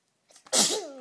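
A single sharp sneeze close by, with a short intake of breath before a loud, explosive burst that trails off. No one speaks.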